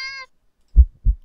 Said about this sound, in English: Cat meows at you again, but it sounds much deeper than earlier